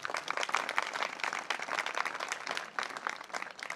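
Audience applause welcoming a speaker at a prayer ministry meeting, a dense, continuous wash of many hands clapping at a moderate, somewhat distant level, swelling and dipping slightly.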